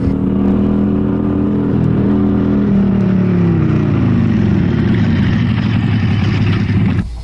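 Motorcycle engine running steadily and loud for about seven seconds, a low rumbling drone with a slight shift in pitch midway as if revving, then cutting off abruptly at the end; no talking.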